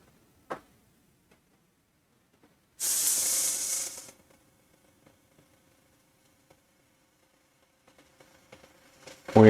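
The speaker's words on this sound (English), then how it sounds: "this step here, we'll be using the airbrush, and we're using Monument Pro Acrylic black primer" Airbrush spraying Monument Pro Acrylic black primer over a Warhammer 40K model: a single clear hiss lasting about a second, with a small click before it, quiet gaps around it and a soft knock at the end.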